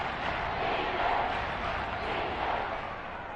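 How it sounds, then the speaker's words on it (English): Stadium crowd in the Madden 23 football game roaring steadily ahead of a big third down in the fourth quarter, a broad continuous cheer that swells slightly and stays even throughout. "The crowd getting into it as we come up on a big 3rd down."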